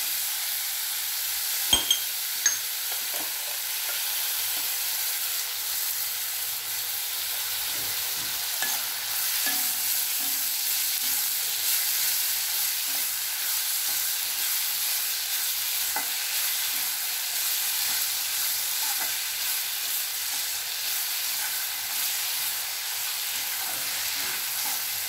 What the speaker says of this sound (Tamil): இப்போ கொஞ்சம் வதங்கட்டும்.